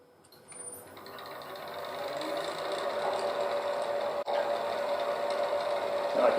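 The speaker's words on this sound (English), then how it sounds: "let me just finish hollowing this out" Lathe hollowing end grain wood with a straight cutter: a steady whirring drone builds over the first seconds and keeps on, with rough scraping from the tool and one brief dip near the end.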